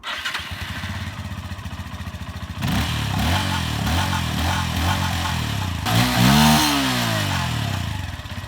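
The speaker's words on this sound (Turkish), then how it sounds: "Motorun egzoz sesine gelirsek şöyle bir dinleteyim size" A fuel-injected CFMOTO 150 NK motorcycle engine idles with a steady putter, then the revs climb and hold loud and close, with a sharp rising rev burst near the end.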